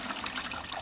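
Mop water splashes and pours into an empty bucket, a brief, continuous rushing trickle heard close by.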